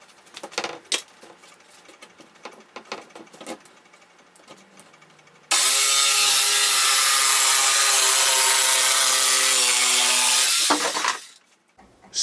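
A power saw cuts wood for a Honda Accord 8th-generation trunk floor: a few seconds of knocks and handling, then a loud, steady buzzing whine for about five seconds that stops abruptly.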